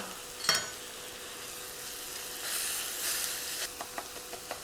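Sausage and vegetables browning in a pan, giving a steady sizzling hiss that swells briefly, with a utensil knock near the start and a few light taps at the end, with no talking.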